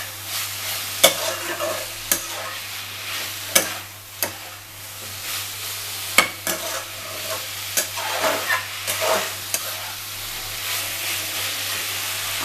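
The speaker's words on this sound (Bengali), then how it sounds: "একসাথে আমি ফুলকপি এবং আলু ভালো করে কষিয়ে নেব।" Cauliflower and potatoes stir-fried with spices in a pan for a prawn dish, giving a steady sizzle broken by repeated scraping strokes of the spatula, close and fairly loud, with no talk.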